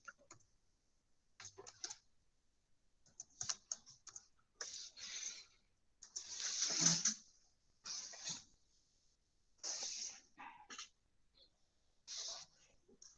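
Typing Python plot-label code on a computer keyboard in a quiet room. Crisp clicking keystrokes come in short bursts separated by pauses, close and fairly soft.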